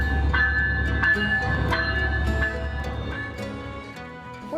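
A Brightline high-speed train pulls out of a Florida station, heard from inside as a low steady rumble with tonal hums and soft rhythmic clicks, the rumble easing off toward the end.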